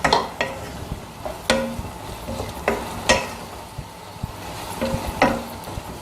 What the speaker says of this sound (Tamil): இந்த பாவக்காய் இருக்கு இல்லையா வதக்கியிருக்கோம், அது வந்து இந்த மசாலாவோட நல்லா கலக்கணும். அதனால் நம்ம போட்டு அதை நல்லா கிளறிடலாம்.